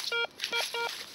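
Handheld metal detector sounding a target signal during a night dig for coins: three short electronic warbling tones in quick succession, close and fairly loud, with no talk.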